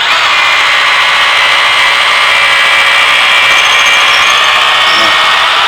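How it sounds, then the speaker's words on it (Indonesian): A cheap cordless hammer drill bores an 8 mm bit through wood about 6 cm thick, a loud steady high whine with grinding cutting noise that holds unbroken and close throughout. "dia ngebor 8 mili dengan ketebalan kayu sekitar 6 cm nih"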